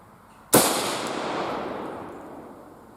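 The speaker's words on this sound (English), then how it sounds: "now we're going to shoot at that 100-yard target down there with my rifle." A single loud rifle shot from a Marlin 336 firing Winchester XP deer ammunition at a 100-yard target outdoors, a sharp crack followed by a long, slowly fading echo rolling across the range.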